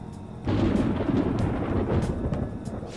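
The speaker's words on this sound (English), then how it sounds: "It sounds like it's going to rain." Deep thunder rolls in suddenly and rumbles steadily for a few seconds before rain, loud and low, with no voices over it.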